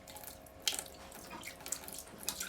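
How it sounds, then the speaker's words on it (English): Water from a foot pump at a sink in an off-grid tiny house in North Carolina, a quiet trickle with a few brief splashy bursts as it flows. "For my water, here's a foot pump"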